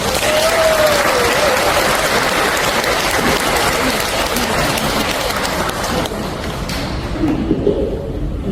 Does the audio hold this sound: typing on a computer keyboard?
no